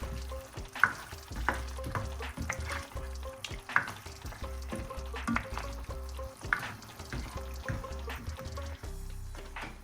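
Meat and cooked tomatoes stirred in a karahi for karahi gosht, with a continuous hot sizzle under repeated scraping and clattering strokes of a spoon. The stirring is close and rhythmic, and no one speaks.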